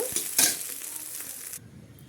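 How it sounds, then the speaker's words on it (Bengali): An egg fries in hot oil in a pan, a brief, close sizzle with a sharp scrape or stir near the start before the sound drops away toward the end. "ডিমটা এভাবে ঝুলো ঝুলো করে ভেজে নিয়েছি এবার এটাকে আমি তুলে নেব"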